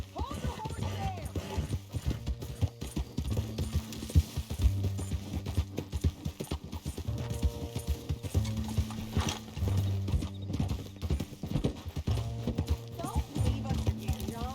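Horse hooves clip-clopping at a steady walking rhythm in Red Dead Redemption 2, close and continuous, with creaking tack and a music bed underneath.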